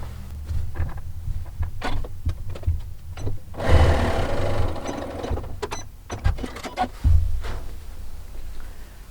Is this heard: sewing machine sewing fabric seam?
yes